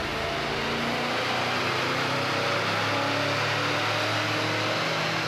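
A Manhart MH3 car on a dynamometer starts up and runs, giving a steady, loud engine drone with a low rumble throughout, close by and without talk.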